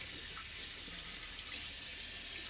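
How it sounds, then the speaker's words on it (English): Cold tap water running steadily into a bathroom sink during a wet shave, a close, continuous hiss and splash with no talking. "I'm gonna hit it with cold water and alum."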